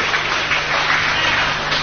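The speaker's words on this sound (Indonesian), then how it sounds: "Tepuk tangan boleh buat Mbak Intan" Audience applause for a woman named Intan at an Islamic religious gathering, a steady wash of many hands clapping at moderate loudness with no talk over it.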